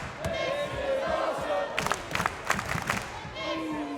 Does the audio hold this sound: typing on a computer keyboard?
no